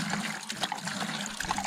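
Dirty, brown well water gushes and splashes steadily as it is pumped out of a newly dug shallow well on raw land in Idaho, a continuous rushing flow at close range.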